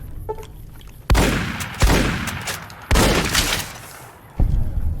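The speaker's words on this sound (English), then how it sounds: "this shotgun's not doing much, is it?" Shotgun blasts in Fallout: New Vegas, four loud booming shots at uneven intervals, each with a sharp attack and a decaying rumbling tail, over low game ambience.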